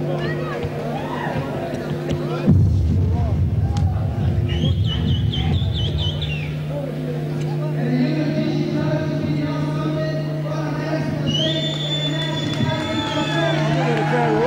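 A crowd at an Australian light middleweight boxing title fight fills an arena with steady babble and cheering. A ringside announcer talks over the crowd, and tonal electronic whistles and hums cut in now and then.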